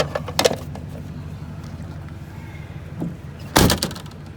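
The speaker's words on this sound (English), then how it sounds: "I'm gonna try and get this back door to close like it's supposed to." Truck back doors being pushed shut, a couple of light knocks first and then one loud solid slam near the end, close by with quiet rustling in between.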